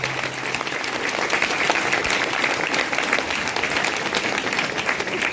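Sustained applause from a motivational-seminar audience, many hands clapping loudly and evenly for several seconds, close and unbroken, with no speech on top.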